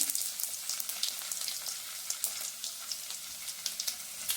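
Garlic and fennel seeds frying in oil in a pan over low heat, a steady close crackling sizzle with small popping bursts throughout.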